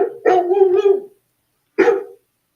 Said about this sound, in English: All right, so I need my dog barking.